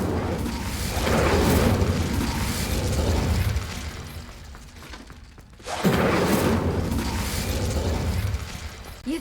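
A fire spell cast in the Hogwarts Legacy video game bursts with a loud whooshing blast, roars on, fades to near quiet, then flares up again with another fiery surge.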